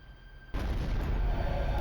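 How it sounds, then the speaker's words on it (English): A sudden explosion erupts out of a quiet night, a loud boom that jumps in abruptly and carries on as a heavy, sustained rumble. "the sound of an explosion sent him rushing to the window"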